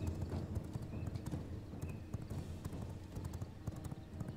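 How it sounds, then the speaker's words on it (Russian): A horse's hooves clip-clop steadily in the video game V Rising, quick rhythmic hoofbeats at moderate distance over a low ambient rumble. "теперь у меня есть лошадь"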